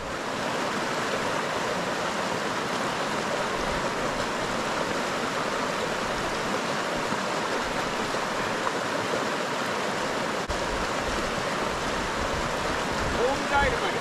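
Glacier meltwater rushes along a stream in a steady, dense, close wash of flowing water that barely changes over its length.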